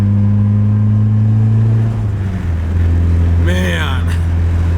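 An SR20 engine swapped into a Nissan 240SX idles with a steady low droning hum close by, its pitch shifting slightly partway through before a brief rising rev near the end.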